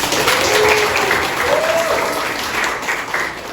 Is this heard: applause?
yes